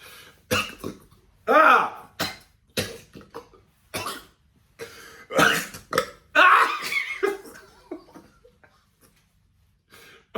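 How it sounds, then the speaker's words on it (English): Loud close burps mixed with several coughs and throat noises, in bursts separated by short pauses, with some breathy vocal sounds between. "I'm coughing, hiccuping, burping."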